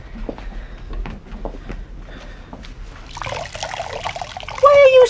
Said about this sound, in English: Why are you squeezing it?